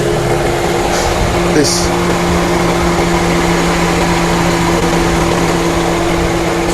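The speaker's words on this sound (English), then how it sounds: "then I'll test if the engine fan will still be blowing like" Steady, loud whooshing roar from a 2015 Mercedes-Benz GLK engine cooling fan running at high speed, with a constant hum throughout and a brief clunk near the start, while someone speaks briefly over it.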